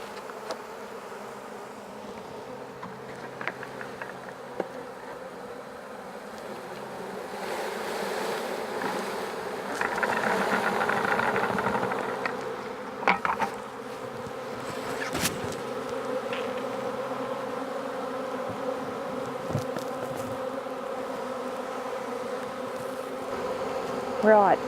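A dense honeybee swarm drones steadily throughout, with occasional knocks and rustles as bees are shaken off a branch, and a swell of louder buzzing midway.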